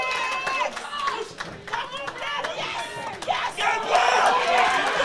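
A boxing crowd at an amateur academy home show roars and shouts continuously through the bout, with loud overlapping voices and whoops rising and falling in a packed indoor hall.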